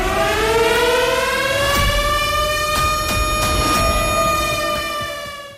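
A civil defense siren wails steadily, its rising and falling harmonic tone loud and sustained throughout, with no voices.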